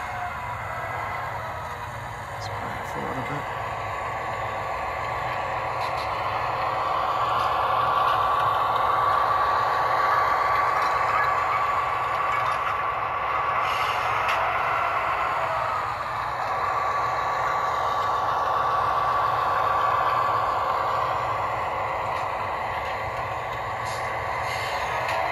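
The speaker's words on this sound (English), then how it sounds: "it's a nice little switcher" An Athearn DCC diesel switcher model locomotive runs with a steady electric motor hum and faint rattling, swelling slightly as it moves, with a thin whine appearing midway; no voices.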